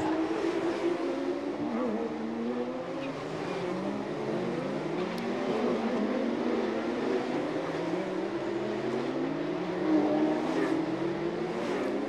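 Porsche Carrera Cup race car climbing a hill on the Chonburi street circuit in Thailand, engine droning steadily with rising and falling revs as it pulls through gears, sustained and fairly close throughout.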